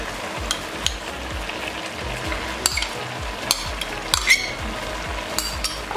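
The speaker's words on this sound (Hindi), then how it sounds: "अब इसको बहुत अच्छे से भून लेंगे" Grated carrots fry in ghee for gajar halwa, with a steady close sizzle and repeated scraping stirs of a spoon against the pan, plus a few sharp metallic clinks.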